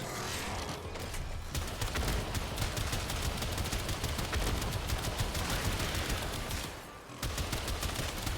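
Heavy, sustained weapon fire from an Arch-gun in the Warframe video game: a dense, loud barrage of rapid shots rolling on for several seconds, with a brief dip near the start and another near the end.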